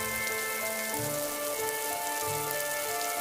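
Steady rain hisses evenly throughout, a constant wash of patter with faint tonal music sitting underneath.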